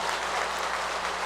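An audience at a Buddhist lecture claps, a dense, even wash of applause at moderate distance, steady for the whole moment with no voices above it.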